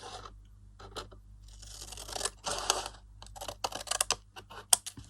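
Paper being cut with scissors for a spring journal flip pocket flap, a run of crisp snips and rustles close by, growing busier toward the end, with no talking.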